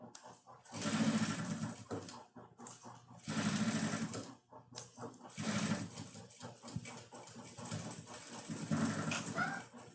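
Sewing machine stitching a phone wallet, running in several long bursts of rapid mechanical whirring separated by short pauses, close and steady, with no voices.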